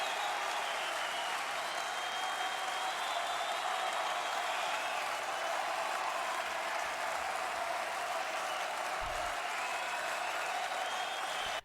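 Applause from a concert audience at the end of a set rolls on as a steady, even wash of many hands, distant and fairly faint, with no break.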